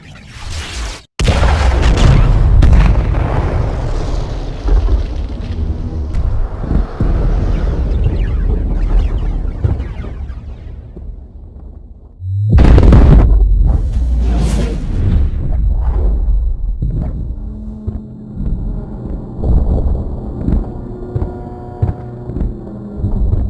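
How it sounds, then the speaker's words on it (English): Ship explosions in the space game Star Citizen: a sharp blast opens into a long, roaring rumble with whooshing debris, then a second loud burst near the middle decays into crackling and humming, all without speech. "I did put up a video just the other day with the different explosions, so I'll show it now."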